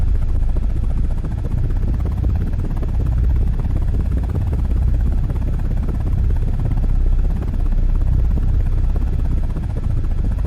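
Attack helicopter in a flight video game, a steady low rotor drone with a continuous rumbling whir that holds even and loud throughout, with no voices over it.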